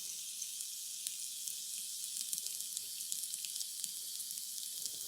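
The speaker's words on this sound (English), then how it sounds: "sizzling wok, rhythmic stirring, and all these things" An AI-generated wok sizzles steadily with rhythmic stirring, a constant bright hiss of frying under soft, faint scrapes and ticks from the utensil, close and continuous without pause.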